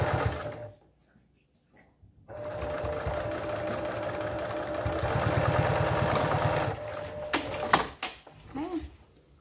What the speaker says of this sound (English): And then I'm going to sew that down.